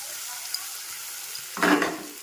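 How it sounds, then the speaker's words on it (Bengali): Carrot and beans frying in a pan for a school lunch, a faint low sizzle under the room that swells into a short louder burst of frying and stirring near the end. "তো এখানে সবজিটা একটুখানি ভাজা হবে"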